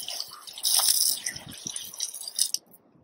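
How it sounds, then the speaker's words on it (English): Ocean water splashes and trickles as feet are rinsed off at the Lou Moon Resort in Ghana, with close, uneven pours and drips that end abruptly. "Just a little rinse from that ocean water."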